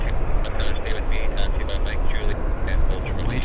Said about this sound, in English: Japan Airlines should be taxiing momentarily.